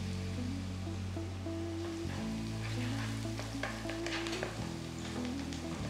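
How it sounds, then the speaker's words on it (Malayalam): Onions frying in oil with chilli, crushed garlic and crushed ginger for a kofta curry, a steady close sizzle with a low hum running beneath it, and no one talking. "അണിയൻസ് ഒരു ലൈറ്റ് ബ്രൗൺ കളറാകുന്ന വരെ കുക്ക് ചെയ്യുക."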